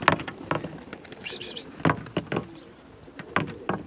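Pigeons at a breeding loft, soft cooing calls heard close by amid intermittent flapping and clattering knocks, with quieter gaps between.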